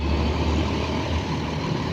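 A Pandawa 87 bus pulling away in Palembang, a low, steady diesel engine rumble that holds at a constant level for a couple of seconds, close and without speech.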